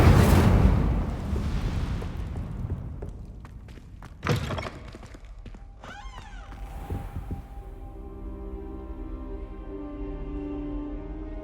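An Incendio fire spell cast in Hogwarts Legacy bursts out as one sharp, loud whoosh midway, rising from a busy game soundscape that settles into a low steady hum afterward.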